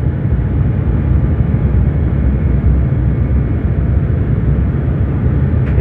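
Airliner accelerating down the runway for takeoff from Rome, heard from inside the cabin as a constant deep engine rumble and roar, loud and unbroken with no talking.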